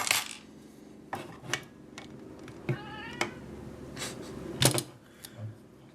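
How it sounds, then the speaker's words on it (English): A cat meows several times nearby, short rising cries with a harmonic sweep, amid metallic clinks and clatter from an HP StorageWorks 1/8 Autoloader being taken apart. "Cat is meowing at the helicopter."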